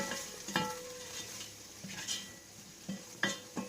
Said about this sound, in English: Give that a little bit of mix in.